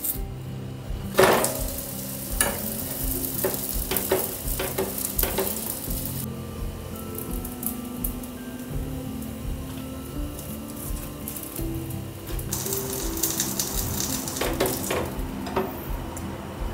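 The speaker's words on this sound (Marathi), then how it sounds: "अशा कडा दाबून घेत आपल्याला हा एकदम चारी बाजूने खरपूस भाजून घ्यायचा आहे" An aloo cheese paratha roasts in ghee on a griddle, giving a steady low sizzle broken by sharp clicks and scrapes as the edges are pressed down; no one speaks.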